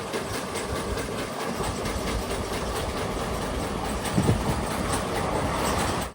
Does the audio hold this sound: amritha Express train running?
yes